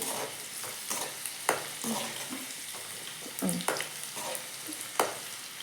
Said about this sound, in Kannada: ಈಗ ಸ್ವಲ್ಪ ಚೆನ್ನಾಗಿ ಫ್ರೈ ಮಾಡಣ್ರಿ ಇವನ್ನ